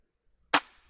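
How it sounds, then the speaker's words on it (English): A layered clap sample built from five stacked claps for a house track remake, hitting once as a single sharp, bright, loud burst that trails off in a short tail, alone with nothing else sounding. "So next thing I do is I have this clap"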